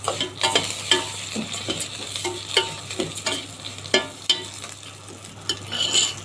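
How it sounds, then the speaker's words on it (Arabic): Rice and vermicelli fry in a pot and are stirred steadily, with a spoon scraping and clinking through the grains in repeated strokes over a constant low sizzle, close and alone. "هقلب كويس."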